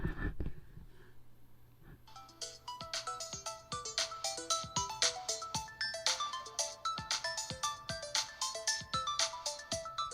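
Melodic electronic music playing from an iPhone 7 Plus loudspeaker with no case on, a bright plucked tune with steady rhythmic notes, picked up close at fairly low level with no talking.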